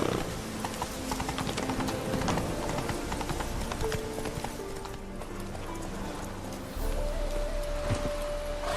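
Horse hooves clip-clop at a gallop in the video game The Witcher 3: Hearts of Stone, a continuous rhythmic beat under game ambience and music.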